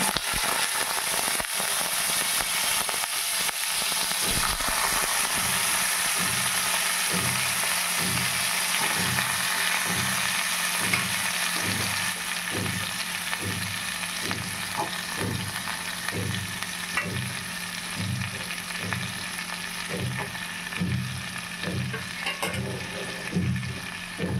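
Ash gourd pieces fry in a pan with black cumin, hissing and sizzling steadily while a utensil stirs them in regular, repeated scraping strokes heard up close.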